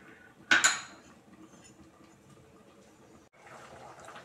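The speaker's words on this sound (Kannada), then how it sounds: "ನಾನಿಲ್ಲಿ ಸ್ಟವ್ ಆಫ್ ಮಾಡಿಬಿಟ್ಟು ಒಂದು ಕಡೆ ಬೇರೆ ಬೌಲ್ಗೆ ಬಗ್ಗಿಸ್ತಾ ಇದ್ದೀನಿ." A metal pot clatters once in a sharp burst as freshly boiled sambar is poured into another bowl, followed by quieter scraping and faint kitchen clinks, with no talking.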